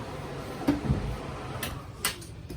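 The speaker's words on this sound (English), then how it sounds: "Drawers." Drawers in a 2021 Wildwood 273QBXL travel trailer are worked, giving a few brief, quiet clicks and knocks spaced apart over a low room hum.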